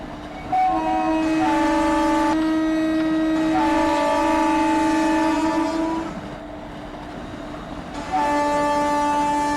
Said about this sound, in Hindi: अच्छा एक ट्रेन क्रॉस कर रहा था।